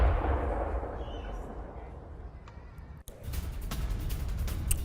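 A deep rumbling roar of distant missile explosions and Patriot interceptions of Iranian missiles, swelling and fading, then a sharp cut followed by crackling bursts and pops against a low background rumble.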